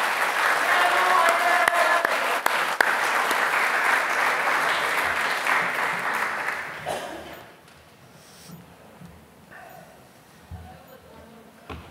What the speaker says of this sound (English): Round of applause, Jeff.